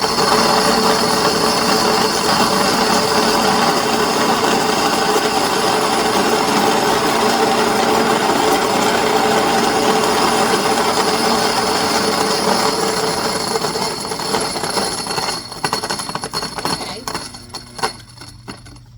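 An electric grain mill grinds kamut into flour at a medium setting, giving a loud, steady whirring roar that runs unbroken for most of the stretch before thinning and sputtering toward the end.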